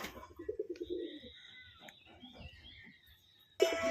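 Pigeons of the jamuni panja breed cooing nearby, low throaty burbling coos in short bursts against a quiet backdrop, with a faint thin tone and a sudden louder noise at the end.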